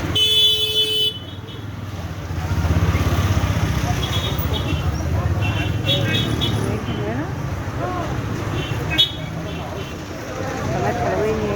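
Crowded street traffic on Bab El Bahr street, with a continuous rumble of cars and engines, occasional horn toots, and someone talking over the noise.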